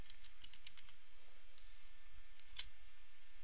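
Faint, quick keystrokes patter on a computer keyboard while code is typed into a Flash ActionScript 3.0 editor: a run of soft clicks early, a louder tap later, over a quiet steady hum.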